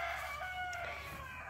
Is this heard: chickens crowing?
yes